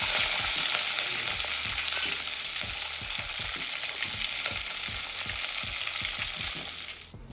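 Tempering spices sizzling in hot oil for rasam, a dense steady hiss with soft rhythmic stirring taps underneath, close and continuous before cutting off abruptly at the end.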